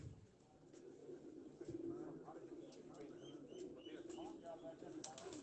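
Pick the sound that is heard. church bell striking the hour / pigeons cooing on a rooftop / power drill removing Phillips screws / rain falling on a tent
pigeons cooing on a rooftop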